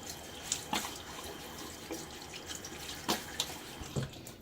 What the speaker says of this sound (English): Now, before I start mixing, as usual, I'm going to rinse my face.